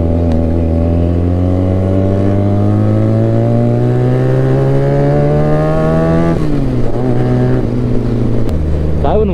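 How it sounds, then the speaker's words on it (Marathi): A Yamaha MT15 and a mini superbike fitted with SC Project exhausts rev loudly and close by, their engine note climbing steadily for several seconds before dropping and then blipping again. "खतरनाक साऊंड करते दोन्ही पण गाड्या"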